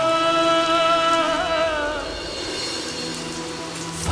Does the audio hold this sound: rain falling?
yes